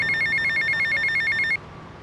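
A mobile phone rings in the video game GTA Vice City, a loud, close electronic trill repeating in quick bursts before cutting off abruptly, with no talk.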